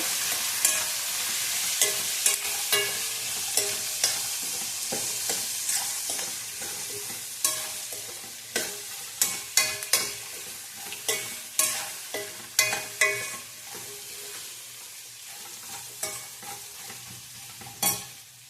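Leftover rice being tempered for oggarane anna in hot oil, a broad steady sizzle with repeated scraping clinks of a spoon stirring the pan, growing more rhythmic toward the end.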